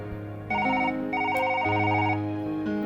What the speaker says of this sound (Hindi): तभी टेलीफोन की घंटी बजी।